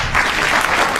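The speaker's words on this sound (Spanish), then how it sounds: "grandes aplausos para el doctor Jorge Rendón Vázquez" A short, loud burst of dense audience clapping at a ceremony honoring an emeritus lawyer, many hands together, close and continuous.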